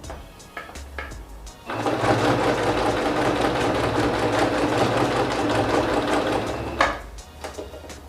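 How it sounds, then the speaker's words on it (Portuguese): Sewing machine stitching through a handmade album, a steady close mechanical whir running for several seconds after a few soft handling knocks, with no talk. "E aí a gente vem com o álbum e costura."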